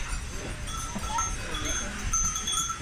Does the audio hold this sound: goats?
yes